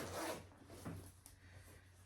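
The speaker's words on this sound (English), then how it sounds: "these zips aren't the best, and it's Barber and it gets stuck" A Barbour jacket zipper snags as it is tugged, giving a quick, close rasping zip at the start, then fainter scraping and fumbling at the stuck slider in a quiet room.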